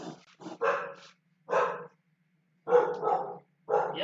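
Several dogs bark at a gate, a close series of sharp barks in four separate bursts with short silent gaps between them.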